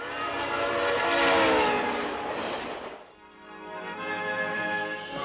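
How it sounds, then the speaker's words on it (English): The Rocky Mountaineer passenger train running through mountain passes in the Canadian Rockies, a sustained tonal horn-like drone swelling and fading, then a lower rumbling run continuing on its own. "the Rocky Mountaineer winds its way through some of the most scenic mountain passes in the Rockies"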